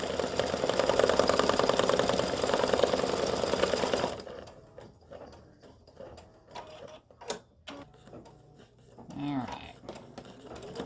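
A sewing machine embroidering a Valentine greeting card on card stock runs loud and steady with a fast mechanical chatter for about four seconds, then stops, leaving quiet handling noises and brief speech.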